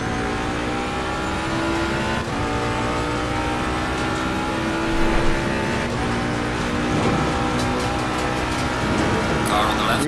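Race cars in Assetto Corsa Competizione drone and rev steadily and loudly throughout, several engines layered in close racing, with a voice talking over the engine noise.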